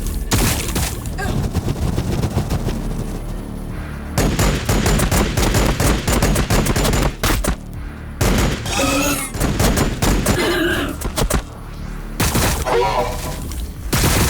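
Loud, dense gunfire crackles in the Warhammer 40k Battlesector video game as rapid bursts and volleys run almost nonstop, with short gaps between barrages.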